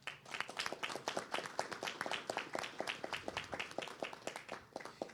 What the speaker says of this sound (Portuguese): para quem eu peço uma salva de palmas